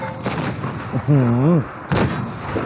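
Tank cannons fire in the World of Tanks Blitz game, with two loud booming shots about two seconds apart and a wavering engine or shell whine between them. Someone talks excitedly over the action.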